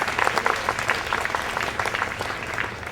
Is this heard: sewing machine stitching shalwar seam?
no